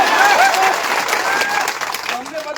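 Crowd at a political rally claps in a brief burst mixed with voices and cheering, the applause thinning out toward the end.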